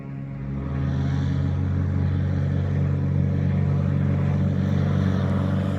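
A big 180 STOL aircraft runs a bumpy course at the Reno Air Races, its propeller engine swelling within the first second into a loud, steady, droning roar that holds close and constant.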